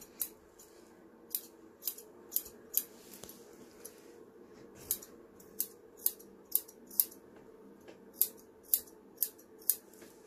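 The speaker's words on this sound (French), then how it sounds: "on rabat en avant et on vient couper en arc de cercle" Grooming scissors trimming a dog's hair during an at-home grooming session: crisp, close metallic snips in quick clusters of three to five, separated by pauses, over a faint steady background hum.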